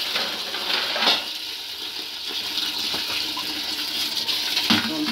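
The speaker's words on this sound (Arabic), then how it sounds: "اغسلها بقى كويس قوي كده" Running water hisses steadily from a tap while fresh greens are washed by hand, with faint clinks and splashes throughout.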